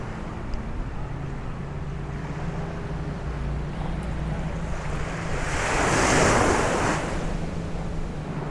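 Ocean surf at Patong Beach, Phuket, washes steadily with a broad rushing roar that swells into a louder breaking wave near the middle, with wind buffeting the microphone and no voices.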